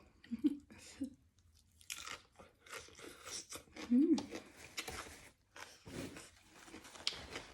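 Crispy fried pork tail is crunched with som tam papaya salad, giving a few close, crisp bites and chewing sounds with pauses between them, mixed with quiet talking.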